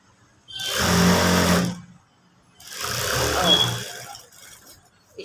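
A sewing machine stitches a puff sleeve in two sustained motor bursts separated by a short pause, close and fairly loud.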